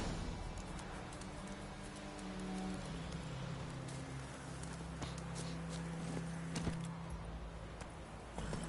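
Hooves of Roach, the horse in The Witcher 3, clop in a steady walking rhythm under soft rain and ambient game noise.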